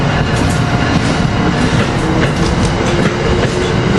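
An Amtrak passenger train, Keystone Train 655, rumbles past close by on departure with steady wheel clatter and broadband rail noise, loud and continuous throughout.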